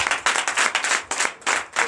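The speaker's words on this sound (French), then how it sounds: "je vous demande d'applaudir très fort" A church congregation at a Sunday worship service claps loudly together, a dense, close burst of applause with uneven swells over a couple of seconds.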